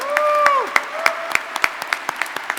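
An audience at a youth celebration event claps, starting with a burst of applause and a rising whistle, then thinning into a string of scattered single claps.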